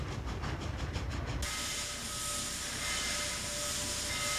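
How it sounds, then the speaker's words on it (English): Norfolk and Western Class J steam locomotive 605, circa 1957, heading to the roundhouse, with rhythmic chuffing at first and then a steady hiss and rumble, moderately loud and without talk. "Number 605 now returns to the roundhouse for servicing."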